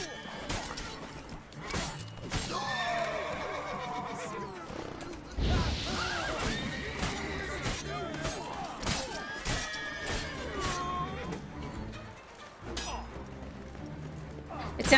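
Roach the horse whinnies and its hooves clip-clop in the game The Witcher 3, with neighs, thuds and crashes mixed into game music, while a voice speaks throughout.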